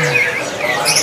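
Songbirds at a bird-market kiosk give short bright chirps and tweets over a busy, noisy market background, with no speech.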